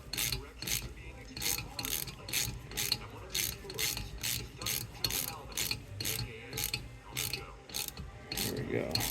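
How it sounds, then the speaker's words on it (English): A part being threaded by hand into a 2010 Husqvarna TXC250 engine cylinder head during a rebuild, giving a steady series of close, crisp ratcheting clicks at a regular rhythm with no talk. "Just going to thread this all the way in."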